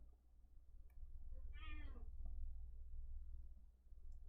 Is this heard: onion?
no